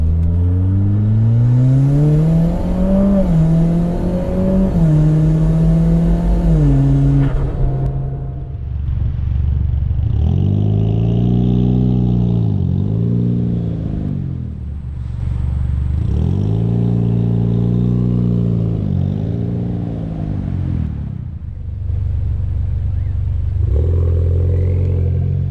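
A Mitsubishi Evo X MR with a rebuilt SST dual-clutch gearbox accelerates hard, its engine note climbing repeatedly and dropping at each quick shift, loud and close throughout.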